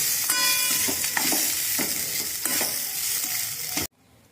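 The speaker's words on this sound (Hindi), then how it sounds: "अब इसमें पीनट डाल देंगे और इन्हें मिक्स कर लेंगे" Peanuts stirred into green masala poha in a pan over a low gas flame, with a steady sizzle and scattered scraping strokes of a spoon, close and fairly loud, cutting off abruptly near the end.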